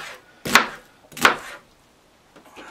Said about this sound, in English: So what I basically do is just cube your onion up.